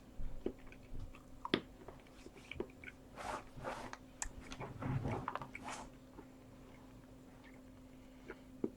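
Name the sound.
chewing chocolate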